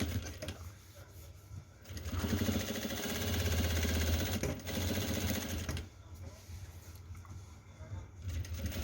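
A sewing machine stitches down a trouser seam while a pair of pants is being taken in, a fast mechanical chatter that runs in bursts and stops between them.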